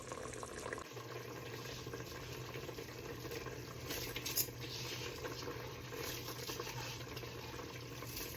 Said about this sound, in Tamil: கொதி வந்துட்டுது இனி அரிசியை போட்டுக்கொள்ளலாம்